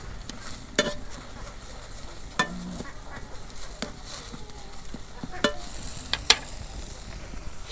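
Green chilies and coriander leaves fry in mustard oil with salt, giving a soft steady sizzle broken by several sharp scrapes and clinks of a spatula stirring the pan, with no talking.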